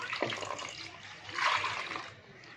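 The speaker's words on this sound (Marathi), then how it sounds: "बेसन आणि दही मिक्स केले थोडं पाणी टाकते यात" Water poured into a besan and yogurt mixture for kadhi gives a soft, steady splashing and trickling that swells midway, fairly quiet with no voices.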